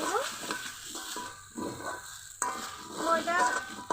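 Chicken bun filling stirred in a pan over a clay stove, with scraping and sizzling strokes that come in uneven bursts, and a voice partly audible beneath.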